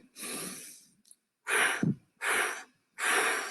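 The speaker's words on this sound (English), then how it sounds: "You breathe in, and then you breathe out 3 times in a puff like this" A person takes a long breath in, then pushes out three sharp, breathy puffs of air, close and clear with short pauses between, as a calming breathing exercise.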